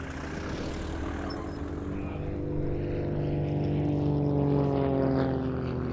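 A Grob Tutor propeller trainer flying a display at the RAF Cosford Air Show, its engine a steady droning hum with a slowly shifting pitch that grows slightly louder as it passes, heard alone with no talk.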